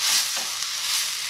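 Beef frying in a pot on a gas stove for stew, a steady close hiss of sizzling fat and meat with occasional stirring scrapes, heard alone.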